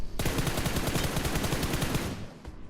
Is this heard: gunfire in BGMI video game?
yes